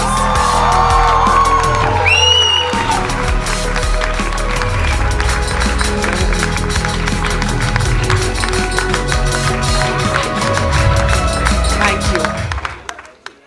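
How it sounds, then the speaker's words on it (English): A hall audience bursts into loud applause, with cheers, whoops and raised voices over a dense patter of clapping. It sustains for about twelve seconds, then cuts off abruptly. "I want to hear the hall burst with applause."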